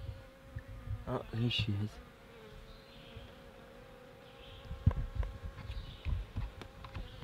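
Bees buzz around garden flowers and summer squash blossoms while pollinating, the drone rising and fading as they move close and away, with a brief spoken remark partway through.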